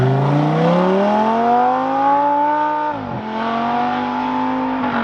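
A car engine revs hard through acceleration pulls, a loud close droning whine that climbs in pitch, drops sharply at a gear change and then climbs again.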